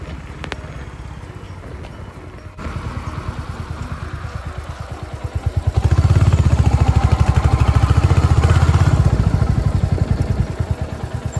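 A motorcycle engine chugs on a ride toward a petrol pump, its steady rapid pulsing growing louder and rougher as the bike picks up, with road and wind rumble underneath.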